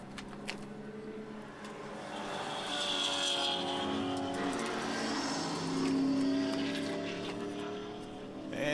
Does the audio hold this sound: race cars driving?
yes